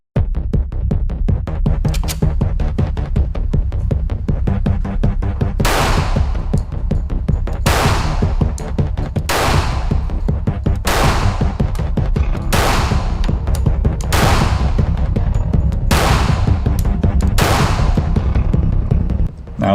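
Village M1911 handgun firing, about eight sharp shots spaced roughly every 1.5 to 2 seconds over a steady loud low hum, with no one talking between them.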